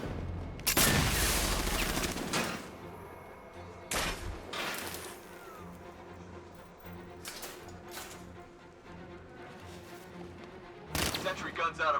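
Sentry gun fire in Batman: Arkham Knight comes as several sharp, loud bursts separated by quieter stretches of game ambience.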